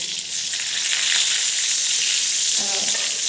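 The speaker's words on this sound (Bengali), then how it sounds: "আর এখানে অল্প বেগুন ভাজি করছি মার জন্য আর ভাইয়ের জন্য" Eggplant slices fry in a pan with a steady, close hiss of oil that holds throughout, and a brief utensil clink comes near the end.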